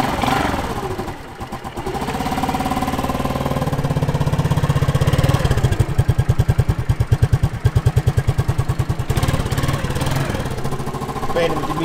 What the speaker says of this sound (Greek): Παίρνουμε την μίζα τώρα.